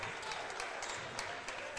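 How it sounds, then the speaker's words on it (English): A basketball crowd at a women's college game gives a fouled-out player a hand, faint scattered applause from a distance with a few sharper claps standing out over a low arena murmur. "Crowd gives Lacey a hand."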